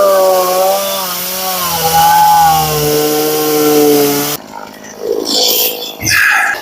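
A chainsaw cutting down a homestead Christmas tree, its engine holding a loud, steady whine near the mic before cutting out into rougher crackling noise as the tree goes over.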